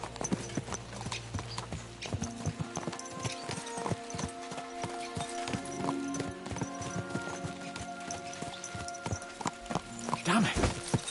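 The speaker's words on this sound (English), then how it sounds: "Let's really spur these horses on, eh?" Horses trot through the video game Kingdom Come: Deliverance II, a busy, close clip-clop of hooves in quick uneven rhythm with a brief whinny near the end, over game ambience.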